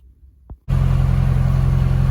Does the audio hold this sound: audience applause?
no